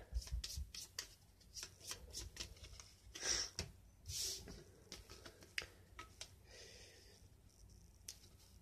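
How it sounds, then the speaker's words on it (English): Onirim board game cards being shuffled by hand, soft riffling and rubbing bursts with scattered taps, quiet and close, with faint talk around them. "so we've replenished the hand, and we need to shuffle it."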